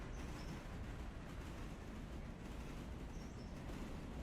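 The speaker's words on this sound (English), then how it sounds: "There's the passenger train heading to, well, eventually Silva." A passenger train in the Railroader simulation game rolls past as a steady, continuous rumble and clatter, moderately loud and unbroken throughout, with no voices.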